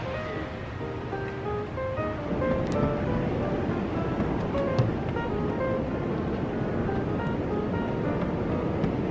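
Steady ocean surf washes continuously onto a beach at early-morning sunrise, a broad rushing roar with gentle swells rising and falling, wind faintly buffeting the microphone, no voices.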